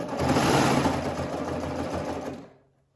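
A serger sews clear elastic into a gathered peplum dress seam, a loud, steady high-speed whirring motor hum that runs continuously for over two seconds, then stops abruptly.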